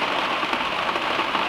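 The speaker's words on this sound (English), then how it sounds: "It's just raining me out." Steady rain pours down outside a van-conversion build site during a wet weekend, a dense, continuous hiss of drops drumming on surfaces, close and even throughout with no voices.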